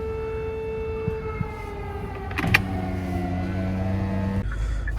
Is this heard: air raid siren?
yes